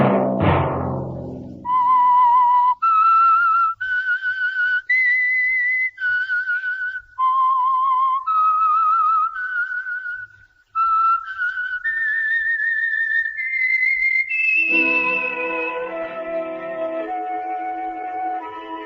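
A lone whistled melody serving as the theme signal for the radio show The Whistler, clear sustained notes rising in steps, ending on a fuller orchestral chord.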